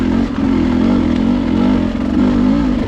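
A Beta dirt bike engine lugs at low RPM, a loud, close, steady low-pitched chug and rumble that holds for several seconds with slight rises and dips, no voices.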